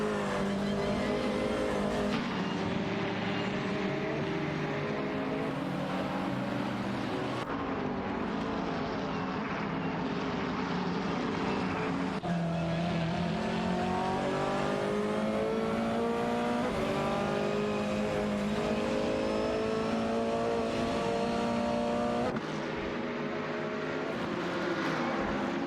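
Race cars in a racing video game, including a Ferrari 488 GT3, roar continuously with engines rising and falling through gear changes, several cars overlapping loudly throughout with no talking.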